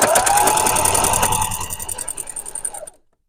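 A sewing machine stitches quilt block pieces together in a straight seam, running fast and steady at first, then slowing into distinct rhythmic thumps before stopping abruptly.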